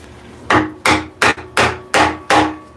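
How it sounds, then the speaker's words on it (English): Six loud, evenly spaced hammer blows drive a spur chuck into a wooden bowl blank, each sharp thwack close and alone with a short ringing decay. "Hammer that home."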